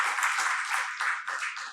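Steady applause from a lecture audience at a Book Day talk, dense hand clapping sustained throughout at moderate loudness, with no voices on top.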